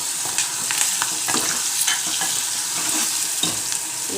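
Ground green chutney sizzling in a pan with curry leaves and chopped pieces, a constant close frying hiss over which a spoon scrapes and stirs in quick, irregular strokes, with no talking.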